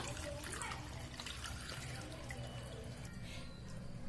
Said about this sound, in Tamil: தண்ணியெல்லாம் நல்லா வடியட்டும்.